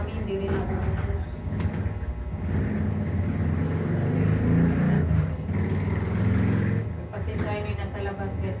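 Street traffic on a Manila roadside beside a house, with engines of tricycles and motorcycles droning and revving close by, continuous and fairly loud under a person talking.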